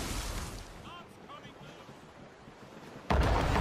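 Ship cannon fire in the naval combat of Assassin's Creed Rogue: booming blasts and rumbling battle noise with sea ambience, ending in a sudden loud burst, while voices shout over the action.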